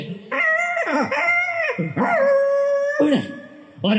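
A performer imitates a dog howling on stage in a mono act, several drawn-out, rising and falling vocal wails in succession, loud and close, with no other talk.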